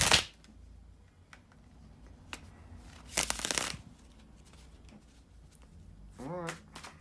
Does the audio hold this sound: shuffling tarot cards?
yes